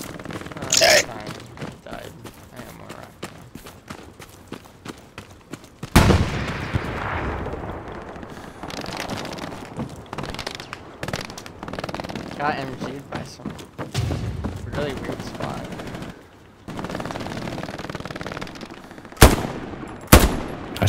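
Machine gun fire and heavy explosions in a World War II video game battle on Omaha, with bursts and booms rising and falling over about twenty seconds under a player's talk.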